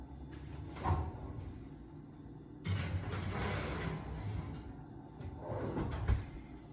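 An oven door opens and a 12-inch cast iron skillet goes in, heard as a few soft thumps and a sliding clunk against quiet kitchen background, faint and unhurried with no talking.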